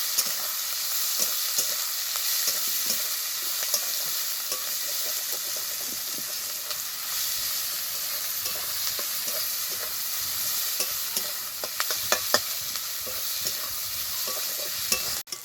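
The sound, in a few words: frying onion, ginger and spices in a pan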